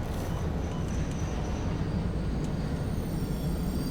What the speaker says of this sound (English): the train goes really slow because there's this hill